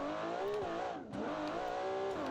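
Limousine engine in the BeamNG racing game revving hard in a continuous high, strained drone, pitch swelling and briefly dipping before climbing again, loud and close with no talk.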